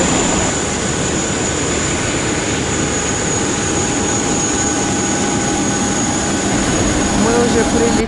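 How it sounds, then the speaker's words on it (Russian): Airplane jet engines roar steadily during boarding for a flight to Istanbul, a loud continuous broadband rumble with a faint high whine, while speech is mixed in. "Уже загружаемся в самолет."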